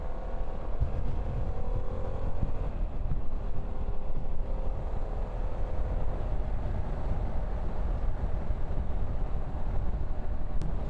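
A Harley-Davidson Pan America Special motorcycle engine drones steadily while cruising in fifth gear at about 60, a continuous close low hum mixed with wind rush and no talk over it.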